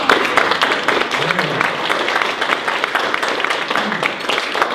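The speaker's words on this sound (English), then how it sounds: "let's give her a round of applause" An audience at a marketing meetup gives a round of applause, dense clapping filling the room for a few seconds at moderate loudness.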